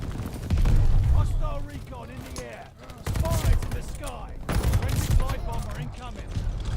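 An unsilenced weapon in Call of Duty: Vanguard battle royale fires in loud, rapid bursts, with three or four volleys separated by short gaps and someone talking over the shooting.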